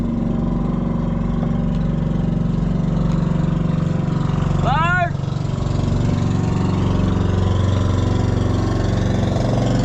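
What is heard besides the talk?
passing motorboat engine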